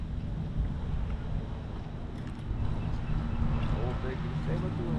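Wind buffets a microphone outdoors while fishing for peacock bass in Florida, making a continuous low roaring rumble that never lets up, with a voice faintly present underneath.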